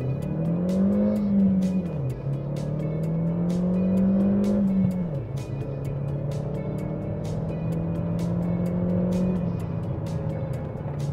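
A 2014 Chevrolet Sonic RS 1.4-litre turbo manual hatchback revs hard accelerating from 0 to 60, pitch climbing and dropping with each gear change, loud and close throughout with no voices.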